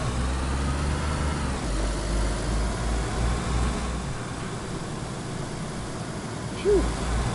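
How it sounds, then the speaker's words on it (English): Loud car engines rumble steadily in the DayZ video game, a continuous low idling drone throughout with faint voices in the background. "Loud cars, loud cars."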